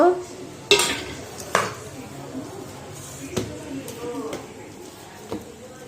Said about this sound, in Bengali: ঢাকনাটা খুলে নেব।